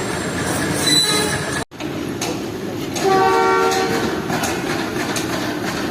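ZCU train rolling on a parallel track beside a Jaffer Express train on a single-line route, loud and near, with rumbling wheels, high squealing tones and a brief dropout midway.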